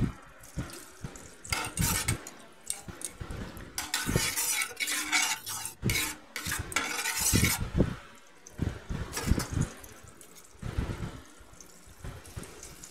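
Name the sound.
cumin added to melted oil and butter, stirring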